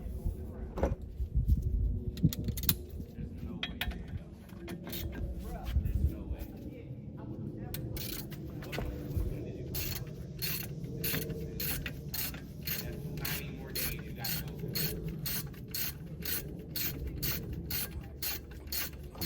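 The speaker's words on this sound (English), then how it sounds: "last thing we're doing is taking off this retaining bolt on the back" A ratchet wrench clicks rapidly while a brake caliper retaining bolt is loosened on a Dodge Challenger, close and steady after early clunks, with someone talking underneath.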